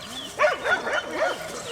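Young dogs yelp and whine in short, rising and falling cries, about four bursts in under two seconds, close by and fairly loud over a faint background.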